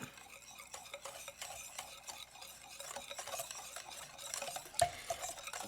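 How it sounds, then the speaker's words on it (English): A small whisk beating coleslaw dressing in a bowl: quick, light, rhythmic ticking and scraping strokes, fairly soft and close, growing a little stronger toward the end with one sharper clink, no voices. "Then you just take a little whisk and whisk it up."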